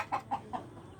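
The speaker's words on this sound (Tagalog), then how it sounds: "Ito yung normal na manok natin." Imported chickens cluck in three quick, fairly faint calls close together, followed by quiet.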